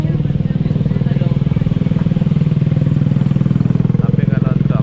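Motorcycle running steadily through a narrow market street, its engine rumble loud and close throughout with light clatter and a faint voice behind it.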